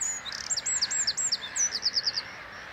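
Wren singing in an open field: a rapid series of high, thin descending chirps and trills, close and clear over a soft broadband background hiss.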